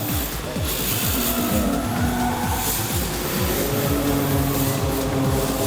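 Race cars at a NURC x Nexen Tire drift competition, engines roaring loudly and continuously with rapid revving and gear changes, tires squealing as they slide through the course, no talk over it.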